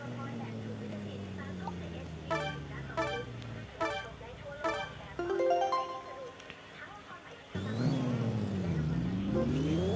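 A Ford Mustang engine revs in the Pixel Car Racer video game, a rising and falling synthetic drone with sharp repeated blips and surging climbs toward the end, while someone talks over it.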